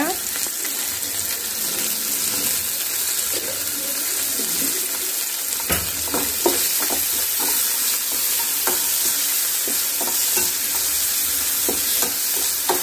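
Okra sizzles steadily in a hot pan while a spoon scrapes and stirs it, with clinking strokes repeating through the frying.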